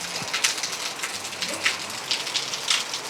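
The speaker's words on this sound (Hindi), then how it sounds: "बहुत तेज बारिश हो रही है अभी।" Heavy rain pours steadily outdoors, a dense continuous hiss of drops striking surfaces with scattered louder spatters, close and fairly loud with no voices.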